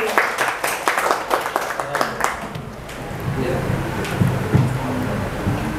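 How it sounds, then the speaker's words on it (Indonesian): Listeners at a literacy and Hikayat Aceh talk applaud the day's speaker, distinct claps crowding together at first, then giving way to a steady hum of room noise. "kita beri tepuk tangan yang meriah untuk pembicara kita hari ini"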